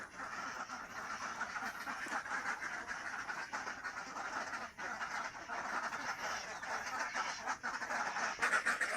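A flock of ducks eats a feed mixed with vegetables, giving a dense, steady patter of bills dabbling and slurping in wet food, close by, continuous and fairly even throughout.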